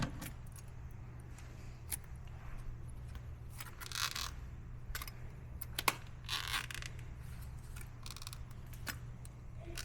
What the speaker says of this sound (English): A bunch of keys.